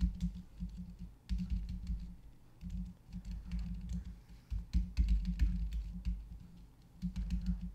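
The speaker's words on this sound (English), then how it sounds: "type in the following commands" Commands typed on a Mac keyboard into Terminal: a close, steady patter of soft key clicks in uneven bursts with brief pauses, heard alone over a quiet low hum.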